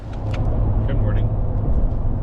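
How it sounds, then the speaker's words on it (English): Road traffic passing near a 23-acre rural property with a house, heard as a steady broadband rumble of cars in the background, while a voice is briefly present. "A lot of traffic noise."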